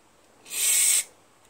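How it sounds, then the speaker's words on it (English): Spray hisses in one short, loud burst of about half a second into a hole in the engine of a Honda Harmony II HRZ216TDA lawn mower with a GCV160 engine, close up, then stops. "Spray it into this hole."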